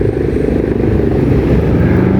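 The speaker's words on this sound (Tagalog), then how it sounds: "Helicopter." Helicopter flying overhead near a cherry blossom garden: a loud, steady low throbbing rotor chop fills the whole moment without any talk.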